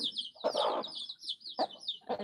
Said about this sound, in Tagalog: Silipin ko yung nakakulong ditong manok ni Ate Shi.